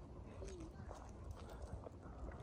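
A Kyrgyz horse walks with soft, quiet hoofbeats in a steady clip-clop, set back beneath someone talking.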